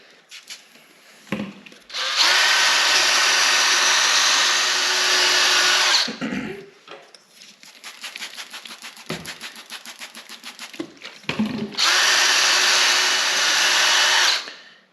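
Power drill polishing a headlight with a Mothers NuLens restoration kit, two loud sustained whirring bursts close by separated by quieter rubbing and handling, with no talk.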